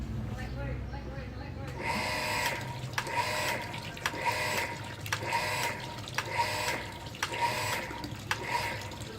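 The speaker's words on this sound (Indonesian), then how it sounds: "perhatikan ya, apa yang terjadi sekarang kalau pompa saya nyalakan" A small water pump switches on and chatters with a repeating clicking cycle known as ceklek-ceklek, about six pulses of rushing water and mechanical ticking at a steady rhythm, near and moderately loud.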